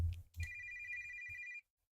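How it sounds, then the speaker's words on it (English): A telephone rings in a video game, a single clear electronic ring tone held for about a second after a soft thump, then cutting off into silence. "The phone."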